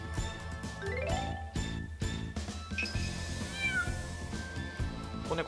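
A kitten meows repeatedly in the Power Pro baseball video game, over busy, rhythmic game music with light jingling tones.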